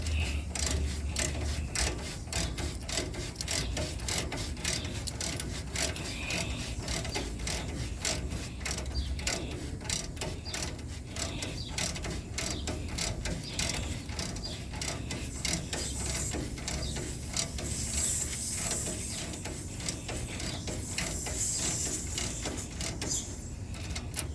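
Tightening the packing nut on a leaking refrigerant service valve, with steady close mechanical clicking and ratcheting, like a wrench, running continuously with no talk.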